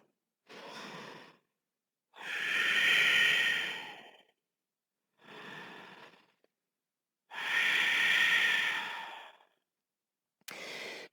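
Slow, deep breathing during a power yoga session, clearly audible and close: alternating long breathy inhales and exhales with short pauses between them, five breath sounds in a calm even rhythm.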